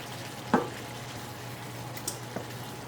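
Arborio rice risotto stirred in stock, a soft ongoing simmer and sizzle with a few wet spoon scrapes and squishes, one sharper knock early on, close and quiet.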